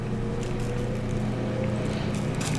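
Ninja Foodi smart grill powering up with a loud fan, a steady droning whir with a strong low hum held evenly throughout, close by and without talk.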